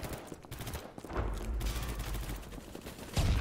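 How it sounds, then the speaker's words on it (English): Rapid bursts of video game gunfire crackle in dense volleys from about a second in, loud and sustained with heavier shots near the end. "Shots fired, shots fired!"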